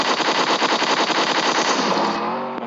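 Rapid, loud automatic fire from an M4 rifle in the mobile game PUBG Mobile, a steady stream of close shots for about two seconds before trailing off, with no talking.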